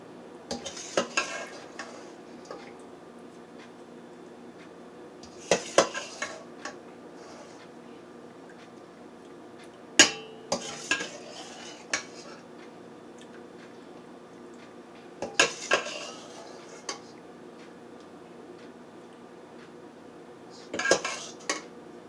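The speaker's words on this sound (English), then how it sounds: "So fill in the whole pie pan evenly with peaches." Peaches for a cobbler are spooned into a pie pan in separate bursts, each a cluster of metallic clinks and taps against a quiet background.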